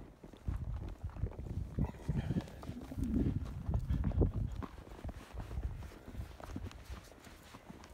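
Horse hooves clip-clop steadily on the ground while a rider works cattle on a cold Texas morning, a close, continuous rhythmic clatter with no talking.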